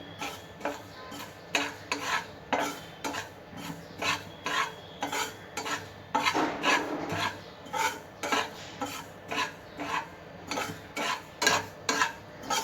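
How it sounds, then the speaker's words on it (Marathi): Poppy seeds dry-roasting in a pan over a low flame while being stirred, giving a steady rhythmic rasping scrape about once a second, close and fairly loud with no talking. "आता मी खसखस भाजून घेते."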